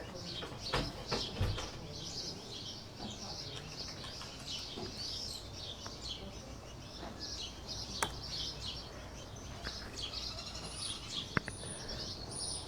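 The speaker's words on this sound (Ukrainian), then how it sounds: "Поки що ви можете понасолоджуватися. Е, звуками птахів." Birds chirping and calling outdoors, several overlapping songs at a moderate distance, with occasional cooing and soft rustles.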